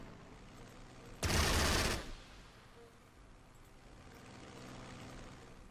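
Artillery fire in the strategy war game Panzer Strategy, a single loud, roughly one-second blast of booming gunfire that then fades into a low steady background.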